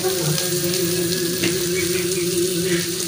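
Egg mixture sizzling in a pan while being mixed, a steady dense hiss with soft scraping under a faint constant hum.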